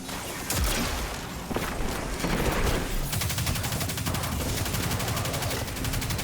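A Wrist Runner gun in Destiny fires a rapid, continuous burst of shots during a Nightfall strike, loud and steady across the stretch, with footsteps faintly underneath.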